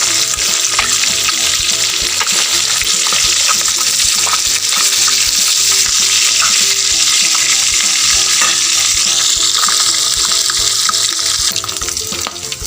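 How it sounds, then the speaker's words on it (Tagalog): Kanduli catfish frying in hot oil, a dense, loud, unbroken sizzle and spatter held close for the whole stretch, with no voices. "dahil okay na yung ating pritong kanduli"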